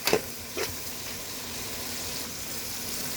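Onions fry in hot oil in a pan and are stirred, with a steady close sizzle broken by a couple of sharp scraping stir strokes at the start, no voices.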